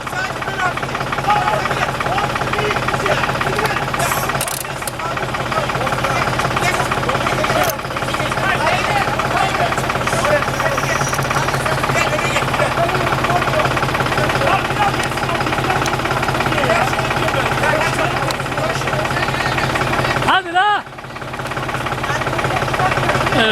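A tractor engine runs steadily and loudly throughout, a continuous mechanical drone with a brief dip near the end.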